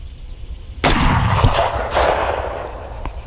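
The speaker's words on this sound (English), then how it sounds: "I'm going to try to shoot a little bit lower on the plate." A single sharp shot from a Marlin 1895 SBL rifle fired at a ceramic body armor plate outdoors, a loud sudden crack followed by a rolling echo that fades over a few seconds, with no talking.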